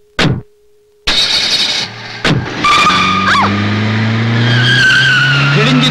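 A car pulls away hard in a Tamil comedy film scene, its engine revving as the tires skid and squeal loudly. A short sharp burst comes first, then a sustained, loud run of engine and skidding with no talking.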